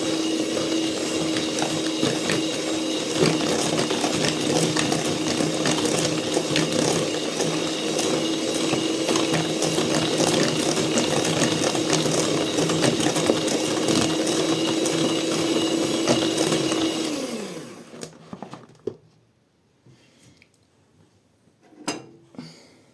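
An electric mixer beats three eggs with a little sugar in a home kitchen, whirring and rattling steadily for about seventeen seconds before winding down and stopping, followed by a few faint clicks.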